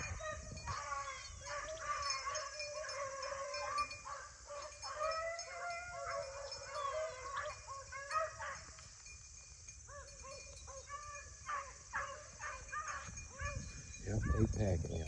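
A pack of hunting hounds, mostly young puppies, bays and howls outdoors during a morning hunt, their drawn-out wavering cries overlapping continuously at moderate distance, with a louder burst near the end.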